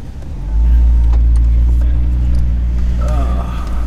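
A car drives through city streets, its engine a loud, steady low drone heard from close by that swells after the first half second and holds throughout.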